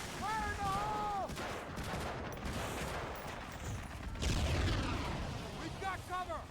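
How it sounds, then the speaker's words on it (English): An explosion blows open a fence in Medal of Honor Frontline on the PS2, amid dense wartime battle noise with distant gunfire and booms. A heavier blast surges midway, and voices shout over the din. "Alright, Jones, let's blow this fence! Fire in the hole"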